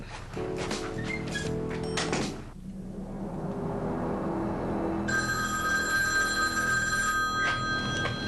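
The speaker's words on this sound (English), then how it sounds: "Hello, Shannen Doherty's room. How may I help you?" A telephone rings with a steady electronic tone in a hotel room, preceded by clattering and shuffling noises, the ringing sustained and fairly close.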